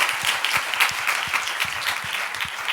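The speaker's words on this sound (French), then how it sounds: "je pense qu'on peut vous applaudir" Conference audience applauding after a talk on preventing sexual harassment, a steady dense burst of many hands clapping throughout, close and sustained without speech.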